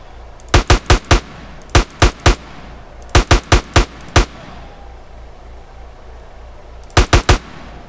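Mac micro submachine guns fire in GTA San Andreas during a gang territory war, sharp loud bursts of three to five rapid shots separated by short pauses of quiet.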